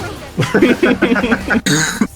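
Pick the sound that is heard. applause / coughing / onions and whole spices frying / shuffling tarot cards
coughing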